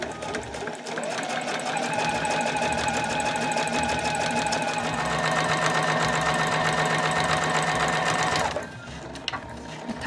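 A sewing machine backstitches fabric for a granny bag, a loud, close, steady rapid clatter that runs for about eight seconds, speeds up midway, then cuts off abruptly.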